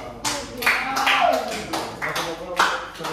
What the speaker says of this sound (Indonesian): Tepuk tangan lo.